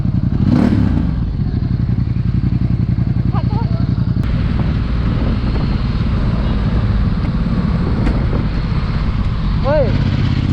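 A 1260cc motorcycle engine starts for the first time and settles into a loud, steady, close rumble. Wind buffets the microphone, and there are occasional clatters and a brief voice.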